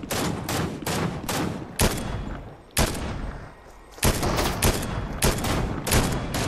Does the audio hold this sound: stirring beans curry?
no